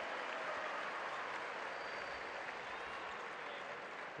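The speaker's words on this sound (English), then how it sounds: "the home fans applaud him for his efforts and what he's contributed tonight" The home crowd at a FIBA Basketball World Cup 2019 Americas qualifier between Uruguay and Paraguay applauds in a steady, dense patter of clapping that holds evenly throughout, heard from some distance in the arena.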